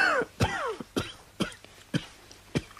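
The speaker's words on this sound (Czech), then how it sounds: "Kašlejte." A person in a Slovak radio drama coughs about six times in a row, short harsh bursts spaced roughly half a second apart, close and alone.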